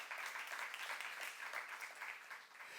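Church congregation at a youth service clapping steadily together for about three seconds, a dense, even wash of hands that sounds somewhat distant and soft, with no speech over it.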